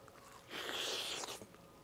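A single crunchy bite into a chicken bacon Caesar wrap gives a short, close burst of crisp crackling that fades quickly into quiet.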